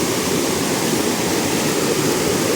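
Waterfall and stream on a forest hiking trail, a close, loud, continuous rush of falling and flowing water with no pause and no voices.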